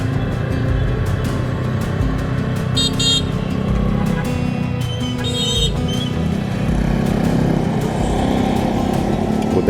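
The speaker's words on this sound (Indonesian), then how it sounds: "Klakson di Jakarta tuh kayak halo gitu." Car horns honking in heavy Saturday traffic along Daan Mogot road between Grogol and Cengkareng in Jakarta, several short toots over a steady loud rumble of engines from nearby vehicles.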